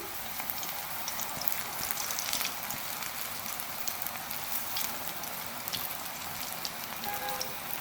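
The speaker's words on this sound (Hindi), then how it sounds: "पकोड़े हम हाथ की मदद से डालेंगे, थोड़ा थोड़ा बैटर लेते जाएंगे, पकोड़े हम डालते जाएंगे।" Methi vegetable pakoras fry in hot oil with a dense, even crackling sizzle that carries on steadily at close range, with small bubbling pops and no voices.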